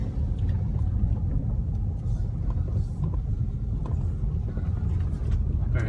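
A car being driven gives a steady, close low rumble of engine and road noise that holds evenly throughout, with no clear speech on top.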